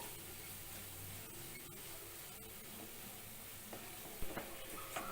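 Grated carrot sambharo sizzles gently in a pan on a gas flame as it gets stirred, a faint continuous hiss with scattered soft spoon scrapes and a few louder clinks toward the end, no talking.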